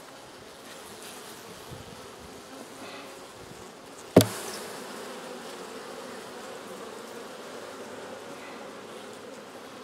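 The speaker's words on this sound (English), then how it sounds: "Lots of bees." Honeybees buzz densely around an open hive being treated for mites, a continuous close droning hum throughout, broken once by a sharp knock midway.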